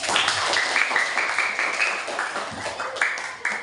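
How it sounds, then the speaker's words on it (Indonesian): A class of pupils clapping hands together in a classroom, a dense patter of many hands that keeps going for a few seconds, with a few voices mixed in. "Tepuk tangan hari ini."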